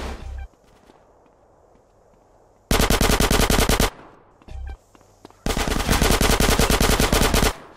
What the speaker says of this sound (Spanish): Por lo menos no saben disparar bien.